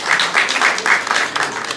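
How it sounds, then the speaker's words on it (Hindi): Dense, continuous audience applause at an Urdu mushaira poetry gathering at the Pakistan High Commission in London, fairly loud and steady over a couple of seconds. "भरपूर तालियां बजाएंगे"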